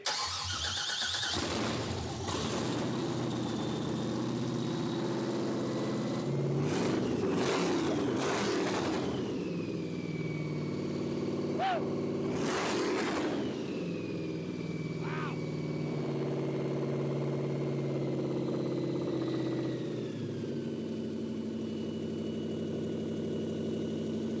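A supercharged 6-71 blown small block in a 1957 Chevy cranks over and fires into a loud, rough, continuous idle with bursts of revving and a brief squeal, close by, with people talking over it.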